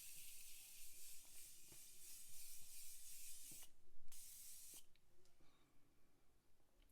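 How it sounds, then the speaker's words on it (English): Morphe setting spray misted over a face, heard as a soft, steady hiss lasting several seconds with a couple of brief pauses, faint and close. "I am just going to go in now with the Morphe and spray my whole face."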